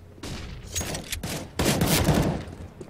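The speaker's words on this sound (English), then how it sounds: "I'm throwing a flashbang!" A flashbang goes off amid a CS:GO firefight, with bursts of loud gunfire and sharp blasts in quick succession and one heavier detonation near the end, and no talk.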